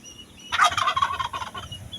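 A turkey gobbles on a farm, a single loud rattling gobble that starts abruptly and breaks into a rapid, pulsing burst before tapering off, heard close and alone.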